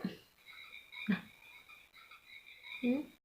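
Frogs croak outdoors in three spaced bursts, fairly close and not loud, over a steady high-pitched chirring background, with no talking.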